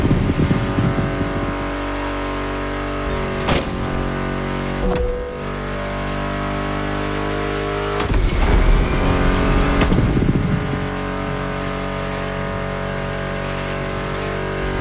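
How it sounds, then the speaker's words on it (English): Car engines in The Crew Motorfest, loud steady engine drone with a few sharp whooshing surges as cars pass, layered over a constant music soundtrack. "Meshes well with the sound of the engines, you feel me?"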